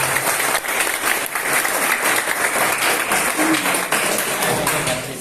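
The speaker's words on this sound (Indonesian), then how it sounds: "tepuk tangan untuk kita semua" A room full of people at a school gathering applauding steadily for several seconds, dense and loud, with voices faintly underneath.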